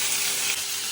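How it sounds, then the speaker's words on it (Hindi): Cumin seeds being tempered in hot oil, a loud continuous hiss of sizzling frying close by, alone without talk. "जीरे का तड़का लगाते हैं"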